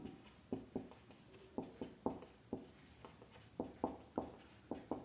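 Chalk or marker taps and scratches on a board during a physics lesson on Ohm's law and resistance. The short, rhythmic strokes come in clusters of two or three, close and fairly clear, with no talk over them.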